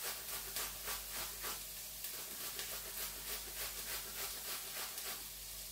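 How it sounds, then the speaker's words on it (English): Two small peeled apples are grated straight into a frying pan, giving a faint, quick, rhythmic rasping of repeated scraping strokes. "Just grate it straight into the frying pan."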